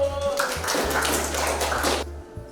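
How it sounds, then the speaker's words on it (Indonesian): A class of students claps together in a short burst of applause lasting about two seconds, fairly close and dense, then cutting off abruptly. "Oke, kasih tepuk tangan dulu."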